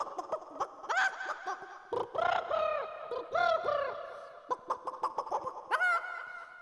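A performer vocally imitates a hen clucking, a quick run of choppy clucks and cackles in uneven bursts, close and moderately loud, with a longer squawk near the end.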